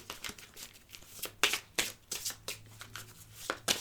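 Tarot cards are shuffled by hand up close, a series of crisp, irregular papery slaps and riffles repeating every fraction of a second.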